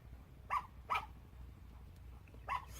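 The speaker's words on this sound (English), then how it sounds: "sorry about the dog." A dog barks three times at mid distance in a quiet room, two quick barks close together and a third after a pause, each short and moderately loud over a low background hum.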